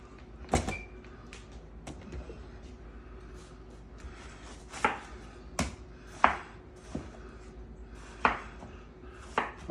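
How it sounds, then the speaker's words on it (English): A knife cuts watermelon into strips on a board: a run of sharp, irregular chopping strikes, several spaced apart early on and then coming more closely together, close and clear over a quiet kitchen background. "Cut it in strips."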